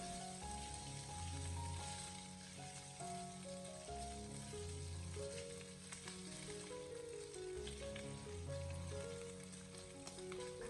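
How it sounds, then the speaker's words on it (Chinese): Sliced pork belly sizzles steadily in a wok over medium-low heat as it is stir-fried to render its fat, a continuous frying hiss running under a background music bed. "下切好的五花肉开中小火给它慢慢的煸炒"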